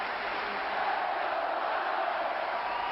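Ice hockey fans in an arena cheering for the Fort Wayne Comets, a dense sustained crowd roar with a chanted, chorus-like quality that stays loud and even throughout.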